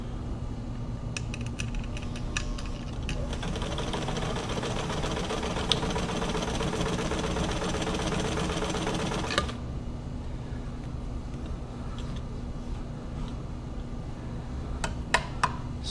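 White 1044 sewing machine running a steady burst of short stitches, a fast even mechanical whir for several seconds, then stopping, with light handling clicks before and after and no speech.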